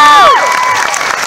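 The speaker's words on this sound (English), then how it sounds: "Yeah, clap for him." Audience at a live VidCon question-and-answer session, a loud burst of cheering and whooping voices that falls into a mix of crowd noise and scattered clapping.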